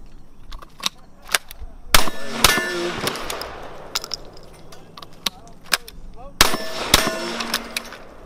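Double-barrel super shotgun firing with sharp metallic clanks of the action opening and spent shells being kicked out, several loud bursts and clatters spread across the span with a voice briefly in the background.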